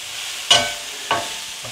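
Food sizzling in a little olive oil in a pan, stirred with two distinct scraping strokes over a steady hiss, close and fairly loud, with no voices.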